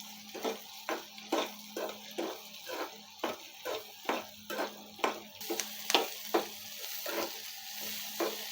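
Onion and tomato roasting in a pan for cashew curry masala, rhythmic spatula strokes scraping and tapping roughly twice a second over a low sizzle, close and steady, no talking.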